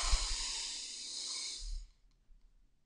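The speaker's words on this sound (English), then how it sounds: "take a big breath in" One long, deep breath drawn in through the nose during a seated meditation, close and soft, followed by near silence.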